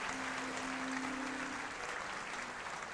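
A church congregation applauds in praise, a steady wash of many hands clapping that fills the space evenly at moderate volume, with a faint sustained tone humming beneath.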